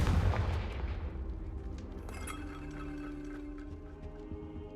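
A Confringo blasting spell cast in Hogwarts Legacy, a loud booming blast at the start that decays into a long rumbling tail under humming background music.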